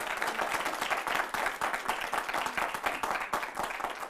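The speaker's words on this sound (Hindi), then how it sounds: "आपके बात पे इतनी जबरदस्त ताली बजी है।" Sustained clapping from a studio audience, fairly faint and steady throughout, without a clear break.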